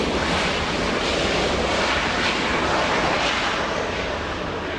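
A large Qantas airliner taxis nearby, heard as a loud, steady, broadband jet engine roar that stays even throughout, with no voices.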